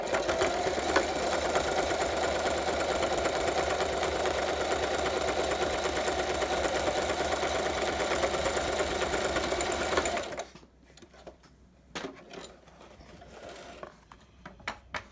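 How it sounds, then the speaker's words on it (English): A sewing machine stitching in a fast steady whirring clatter for about ten seconds, then it stops, leaving quiet with a few faint clicks and handling noises. "So we're done with the sewing machine."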